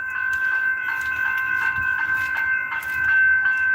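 EDI Comeng electric suburban train rolling past close by, a loud steady hum with a sustained whine and rhythmic clatter of wheels over rail joints, without any talking.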